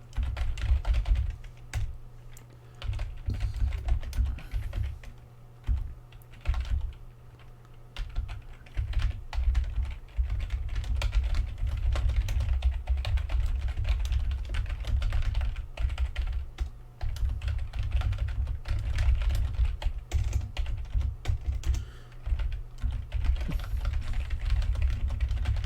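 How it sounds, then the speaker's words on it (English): Continuous fast typing on a computer keyboard, close and loud, with dense irregular key clatter running almost without pause, brief lulls between bursts. "Alright, just typing this out while I say it."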